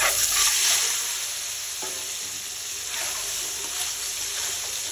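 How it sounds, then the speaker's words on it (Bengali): Marinated eggs frying in hot oil in a wok for spicy masala egg curry, a loud, continuous sizzle with stirring noises, close and steady with no talking. "ডিমগুলো বেশ লাল লাল করে ভেজে নেব।"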